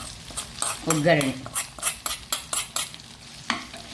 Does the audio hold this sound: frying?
yes